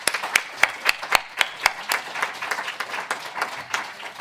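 Applause from a modest audience at a journalism and courts symposium, with sharp, distinct individual claps standing out in a steady rhythm over a softer bed of clapping.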